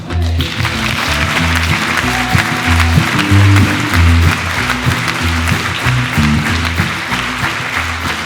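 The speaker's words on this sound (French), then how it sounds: "Et ça s'applaudit bien fort." An audience at a theatre season presentation applauds loudly and steadily from start to finish, with dense clapping over a low rumble of hall sound.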